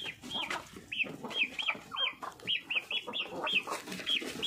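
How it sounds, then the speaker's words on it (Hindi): Several desi village chickens cluck repeatedly and close by, a busy overlapping chorus of short rising calls with rustling in the background. "ये देखिए जी, मुर्गी अंदर आ गई हैं सारी।"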